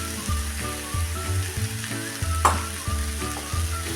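Soaked gram flour batter hits a hot pan with seasoning for a crispy vadi snack and is stirred briskly, a sizzle under a low rhythmic hum with repeated scraping pulses.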